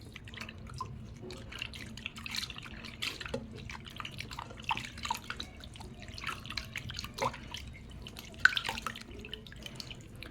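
Water splashes and drips in a sink while hands are rinsed clean of a milk and honey sugar scrub, soft and intermittent, with small irregular spatters throughout and no voices.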